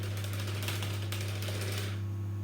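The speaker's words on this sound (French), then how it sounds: "alors je vais un peu fouetter" A chocolate mousse mixture is whisked in a bowl, giving a close, steady run of rapid scraping and clicking strokes over a constant low electrical hum. The whisking stops near the end and only the hum remains.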